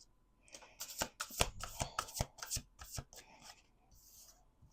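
Oracle cards shuffled by hand in a rapid series of crisp riffling snaps and slaps, close and fairly loud, bunched into quick bursts before tapering into softer rustling.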